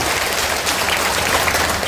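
Crowd clapping at a Jan Suraj party political rally in a village, a dense, steady wash of applause lasting a couple of seconds with no voices on top.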